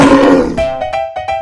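A bear roars loudly and close, a long harsh growl followed by several shorter bursts over a faint tonal backing.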